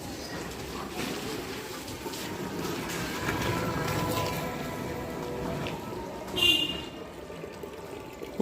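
Light rain falls steadily in a soft, continuous hiss, with a brief louder splash near the end.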